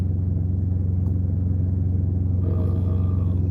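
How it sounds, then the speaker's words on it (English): A truck engine rumbles steadily with a deep, constant drone that stays loud throughout, with no talking over it. "That truck sounds wonderful."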